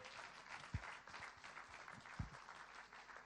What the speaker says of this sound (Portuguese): Et applaudir l'Éternel.